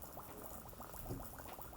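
Dry ice bubbles and fizzes in water, a continuous churning boil with rapid bursting bubbles close by and no talking.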